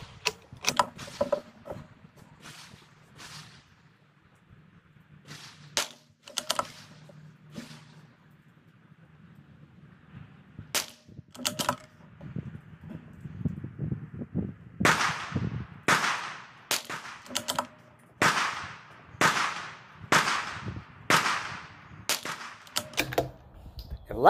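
Ruger Precision rifle firing CCI Standard Velocity rounds at a range: a long series of sharp, separate cracks, sparse at first, then coming in a steadier rhythm toward the end, each shot loud and close with a short ringing tail.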